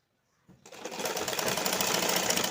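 A sewing machine starts after a short silence and runs continuously, stitching a blouse sleeve with a rapid mechanical whir that builds to a steady, moderately loud rhythm.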